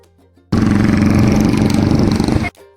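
A vehicle exhaust with a worn silencer bursts into a loud, raspy engine drone that holds steady for about two seconds before cutting off sharply, heard close up.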